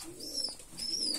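Pigeons cooing, two short soft calls close by, kept birds in a loft during moulting season.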